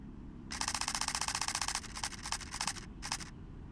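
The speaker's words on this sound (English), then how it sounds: "First, let's try the mechanical shutter." Rapid mechanical camera shutter of a Canon R7 or R10 firing in a fast continuous burst, then a few shorter stuttering bursts, crisp and close against low background hum.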